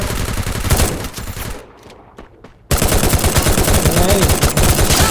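Bursts of automatic gunfire from a mobile shooting game played on an OPPO A17 phone, loud rapid shots that pause briefly, then resume as a dense continuous volley.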